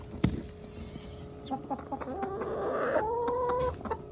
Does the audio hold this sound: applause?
no